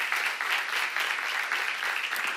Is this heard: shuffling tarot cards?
no